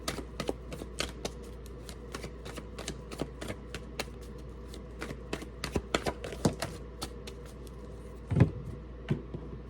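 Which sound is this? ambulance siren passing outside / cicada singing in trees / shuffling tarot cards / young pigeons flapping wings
shuffling tarot cards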